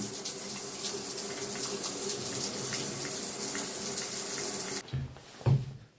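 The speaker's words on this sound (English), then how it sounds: "So I'm going to let it run for a few minutes, just get the water softer filter working." Water running steadily from a shower faucet into a bathtub through a newly installed water softener, a constant close hiss that cuts off near the end, followed by a couple of splashes.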